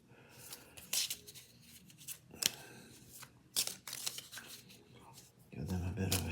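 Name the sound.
playing cards being shuffled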